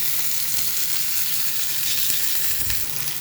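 Pabda fish cooks in a pan with a loud, dense, unbroken sizzle and occasional small spits of oil throughout.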